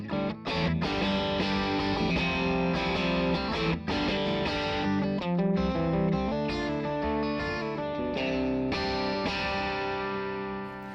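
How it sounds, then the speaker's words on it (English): Electric guitar played through a VOX MV50 AC amp head voiced after the AC30, ringing chime with mild crunch distortion, steady loud chords and picked notes alone for about eleven seconds. "that's the classic chime and crunch of VOX's AC30"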